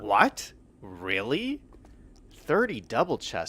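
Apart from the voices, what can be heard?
No everyday noises stand out.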